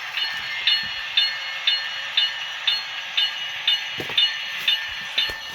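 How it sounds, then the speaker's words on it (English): An HO scale model track cleaning train runs along a layout, giving a steady clickety-clack of small wheels over rail joints at an even rhythm, with a faint hiss throughout and a few sharper clicks near the end. "I have it hauling right now a track cleaning train"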